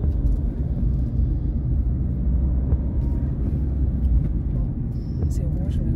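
A car engine on a driving-lesson drive gives a steady, close, low rumble throughout, with a voice speaking over it.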